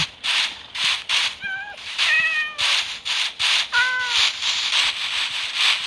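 Several clear cat meows from a video game, some with rising, stretched tones, recur over a steady bright background hum with rhythmic pulsing.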